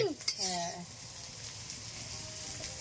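Carrots, peas and beans fry in a pan in a rustic village kitchen, giving a steady sizzle throughout with a brief voice near the start.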